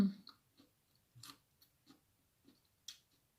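Crunchy sweet potato being chewed and bitten close up, a series of soft, crisp crunches spaced irregularly with quiet pauses between them.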